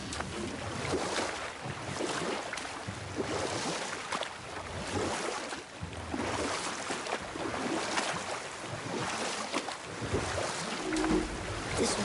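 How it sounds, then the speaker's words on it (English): Waterfall in the God of War video game, a continuous broad rushing roar of falling water that stays steady and loud throughout with no talking. "This waterfall is even bigger now that the water's dropped."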